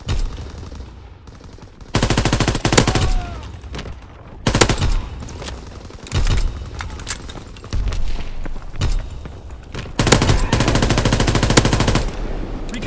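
Strafing-run gunfire from a fighter plane in Call of Duty WWII, with loud bursts of rapid automatic fire separated by brief quieter gaps, heavy and close over a game battlefield backdrop.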